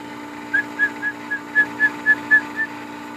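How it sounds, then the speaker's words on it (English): A person whistles to a dog in a run of about nine short, evenly spaced high chirps, clear and close over a faint steady background hum. "You whistle and he just turns his head."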